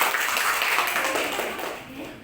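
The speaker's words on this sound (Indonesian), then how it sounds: "Kita berikan tepuk tangan." Junior high school students clapping for a classroom presentation, a brisk burst of many hands, close and lively, tapering off after a couple of seconds.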